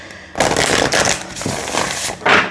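Playing cards for a reading being shuffled in a few quick papery bursts of riffling and crackling, close and fairly loud, with short pauses between them and no talking.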